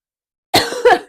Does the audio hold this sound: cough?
yes